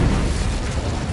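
Incendio fire spell cast in the Hogwarts Legacy video game, a loud, steady whooshing roar of flames bursting out for about a second.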